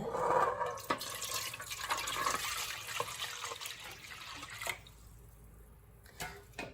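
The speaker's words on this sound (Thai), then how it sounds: "ใส่น้ำเปล่าด้วยค่ะ" Plain water pours into a fermented fish mixture being prepared, a continuous splashing rush that fades into trickles and drips near the end, close and fairly quiet.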